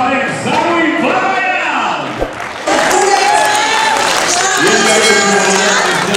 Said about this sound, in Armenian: Երկին անգամ ծափարեք Զարուհի